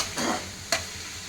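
Ingredients frying in butter in a pan for paneer butter masala, with two brief stirring scrapes over a faint steady sizzle, close and quiet, no talking.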